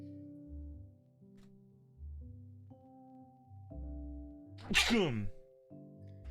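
A single loud, sharp sneeze bursts out over steady background music, brief and close.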